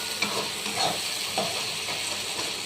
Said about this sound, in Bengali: এইভাবে মশলাগুলোকে ভালো করে নেড়ে চেড়ে নিলাম।